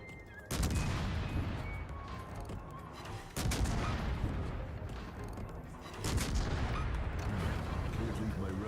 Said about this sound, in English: Couple more shells ought to put this guy off the board.